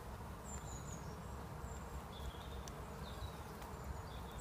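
Swarm of bees moving into a Japanese box hive, a steady low droning hum of many bees with faint bird chirps above, continuous and fairly quiet, no talking.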